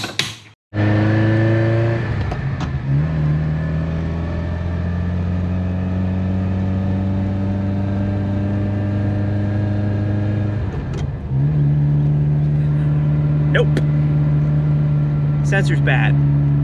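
Engine of a Ferrari 308 running steadily as the car drives on the road, a continuous near drone with a brief dip and recovery midway, like easing off and back onto the throttle, with speech faintly present.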